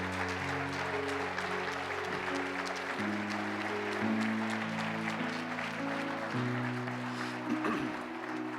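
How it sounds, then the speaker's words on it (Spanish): A church congregation claps loudly and steadily throughout, a dense wash of applause over sustained keyboard or organ chords that shift every few seconds. "Denle un fuerte aplauso al Señor."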